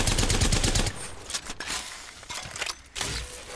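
Havoc energy rifle gunfire in Apex Legends, a sustained burst of rapid automatic fire for about a second followed by scattered shots and impacts amid game effects.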